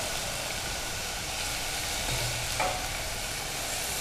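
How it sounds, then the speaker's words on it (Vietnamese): Fried mushrooms are stirred into a pan of sautéed ginger and lemongrass, giving a steady hiss of sizzling frying with a soft scrape of stirring partway through. "Khi mà gừng sả mình phi thơm rồi, mình sẽ cho nấm đã chiên vào rồi nhé."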